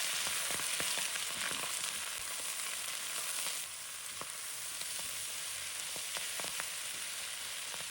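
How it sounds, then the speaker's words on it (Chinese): Chinese kale and garlic leaves stir-fry in a wok over high heat, a loud, dense, continuous sizzle with scattered clinks and scrapes of the spatula tossing the greens. "先把蒜叶放入锅中，再把芥蓝放进来，"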